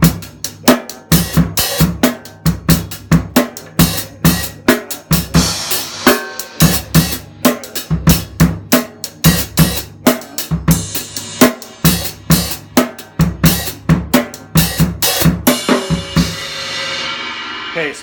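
Drum kit groove in 4/4 with the left foot keeping quarter notes while accented strokes move to another drum or cymbal, a busy, punchy pattern played close and steady for the full stretch.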